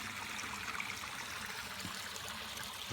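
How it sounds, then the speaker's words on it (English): A small waterfall at a newly built koi pond in Rochester, New York, pours into a rocky stream, giving a steady, even rush and trickle of water throughout, moderately close with no voices. "It's got a little waterfall, flows into the stream,"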